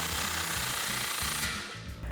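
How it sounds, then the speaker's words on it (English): Exhaust clamp being tightened with a 15mm socket while installing an MBRP Armor Lite high-clearance turn-down cat-back exhaust: loud, rapid, rattling bursts in several quick runs, pausing briefly between them, close up. "slide that into place and tighten it down with our 15mm socket"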